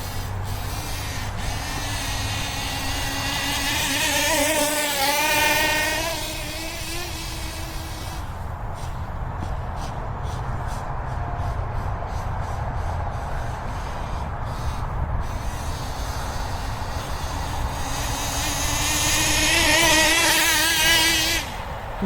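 An OFNA Titan Twin nitro RC car engine with a Track Stars turbo, running rich: a loud, continuous buzzing whine that rises and falls in revs, with harsher bursts near the start and end.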